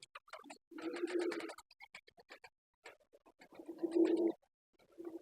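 Soft, low pigeon coos come in a few short bursts, separated by quiet gaps with faint clicks and rustles.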